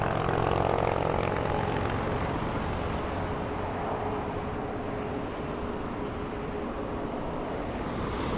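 An airliner at Los Angeles International Airport gives a steady, loud engine roar and broad rushing drone that holds without pause for several seconds, with no voices.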